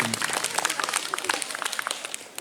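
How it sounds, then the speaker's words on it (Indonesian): Festival talk show audience applauding the speakers, a short burst of scattered clapping at moderate distance with crowd murmur and a voice over it. "Beri tepuk tangan yang meriah untuk pemateri-pemateri permohonan"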